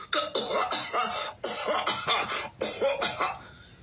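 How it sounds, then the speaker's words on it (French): A girl coughs in a rapid series of harsh, loud, close bursts, grouped in fits with short gaps between them. "qui tousse derrière toi depuis quelques jours"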